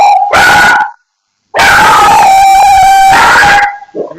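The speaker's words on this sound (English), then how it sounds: "Yeah, that's my dog." A pet dog howls and bays loudly and close, two long drawn-out tonal howls separated by a short silence, the second sustained for about two seconds before trailing off into a brief yip.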